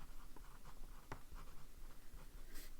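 An Esterbrook fountain pen with a plain medium nib scratches across paper in quiet, close strokes, with small irregular scrapes and one sharper tap.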